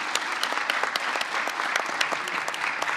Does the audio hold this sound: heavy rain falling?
no